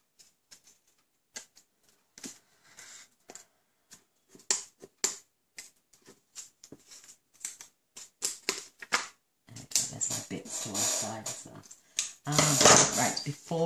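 Scissors trim excess paper from a Z-fold greeting card in a run of short, crisp snips and rustles, close by and sparse at first, then denser handling noise toward the end.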